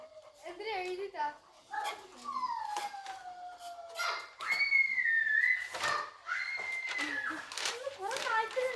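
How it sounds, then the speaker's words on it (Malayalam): Several dogs barking and howling together nearby, with long wavering whines and yelps overlapping one another continuously, along with some whistle-like tones. "കുറെ നായ്ക്കളുണ്ടല്ലോ ഇവിടെ."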